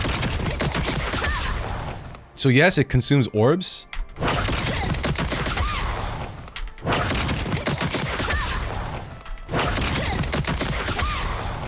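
The Wardancer class fights in the video game Lost Ark, and its skill effects hit in dense bursts of punchy impacts and rapid explosive rattles. They are loud and nearly continuous, with short gaps between volleys, and someone talks over them.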